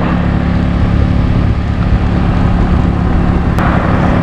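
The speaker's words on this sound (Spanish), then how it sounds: "Voy muy lento ahora, subiendo por la montaña. No tiene potencia mi moto." An underpowered motorbike labours up a mountain road in the Sierra de Juárez, Oaxaca, its engine a loud, constant, strained drone mixed with wind rush, with no pauses.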